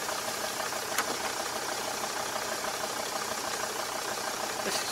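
Car engine idling steadily just after starting, a continuous even hum with a light rattle and a couple of faint ticks, no talk over it.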